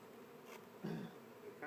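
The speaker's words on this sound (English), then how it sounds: "This is a gentle hive of bees" Honey bees from a gentle hive buzz with a low, droning hum that swells briefly in the middle, close and steady against a soft background hiss.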